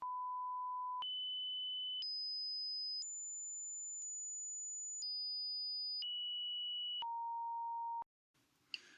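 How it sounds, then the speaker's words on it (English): Eight pure sine tones, each about a second long, step up in pitch then back down as aliasing after sampling folds the rising frequencies, clean and steady with sharp clicks between steps, followed by a brief faint rustle. "As the frequencies of the sine tones are going up, what you hear is actually coming back down."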